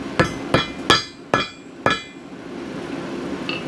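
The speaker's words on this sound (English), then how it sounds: "You kind of just tap it in." Five sharp hammer taps drive a two-piece bushing into a leaf spring on a Ford Ranger front suspension, each strike ringing briefly before fading into quiet.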